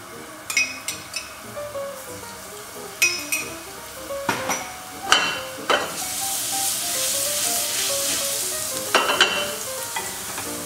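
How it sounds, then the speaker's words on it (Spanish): Garlic browns in hot olive oil in a frying pan, a bright sizzle that swells midway, broken by several sharp metallic clinks and scrapes of a utensil against the pan. "Doramos un poquito de ajo."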